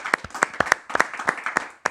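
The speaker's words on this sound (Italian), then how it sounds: "ci vuole un applauso" A handful of sharp, spaced claps from a small studio audience on an Italian television talk show, irregular and close, with brief gaps between bursts.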